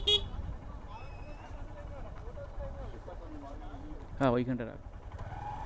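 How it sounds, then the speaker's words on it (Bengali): Cars arriving in a busy roadside spot at Dhanushkodi near Rameswaram, with a steady low traffic rumble, a couple of faint horn tones and one loud nearby honk near the end, under people talking. "বাবা অনেক গাড়ি চলে এসছে।"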